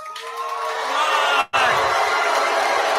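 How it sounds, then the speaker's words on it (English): A large outdoor political-picnic crowd at Fancy Farm, Kentucky, roars steadily against Governor Andy Beshear's speech, a dense, continuous wash of jeering voices with one brief dropout midway. "Listen to that booing."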